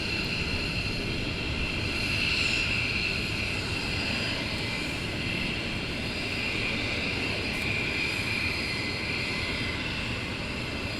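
Military jet aircraft taxiing at RAF Lakenheath during a morning launch, a steady broadband engine roar with a high whine held throughout, moderately distant and continuous with no talk.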